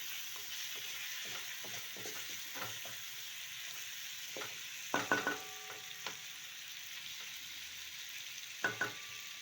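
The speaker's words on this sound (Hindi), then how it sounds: "3 मिनट तक हमने फ्राई करना है, अच्छे से फ्राई करना है इसको।" Goat offal (pota) fries in a pan with a soft, steady sizzle, stirred with a few louder scraping clinks of the spoon against the pan near the middle and end. No voices.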